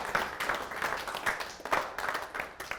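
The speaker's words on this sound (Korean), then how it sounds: "박수 한 번 더 주겠습니다" A small audience at a Korean business lecture on growth and innovation claps, giving fairly quiet, uneven bursts of hands that rise and fall in loose pulses, heard alone without talk.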